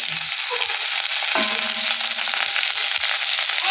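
Onion, ginger and garlic frying in hot oil with mustard seeds and curry leaves, a steady close sizzle with small crackles and pops throughout, no talking.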